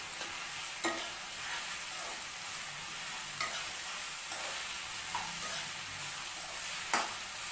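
Salted okra sizzles steadily in a pan while occasional stirring scrapes and clicks rise above the even frying hiss, close and moderately quiet.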